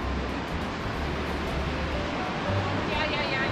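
Rushing river far below in a canyon beneath a suspension bridge, a steady broadband water roar that runs throughout, with faint voices underneath.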